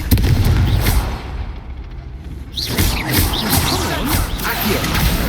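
Booming, crackling spell blasts and impacts erupt in Hogwarts Legacy combat as the Confringo fire spell is cast, loud and dense, with a brief lull before the explosions resume and voices mixed in.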